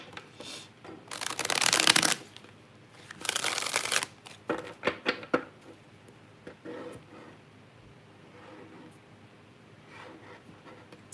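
Tarot cards are shuffled up close in two loud riffling bursts, followed by quieter shuffling, tapping and rubbing of cards that fades toward the end, with no talking.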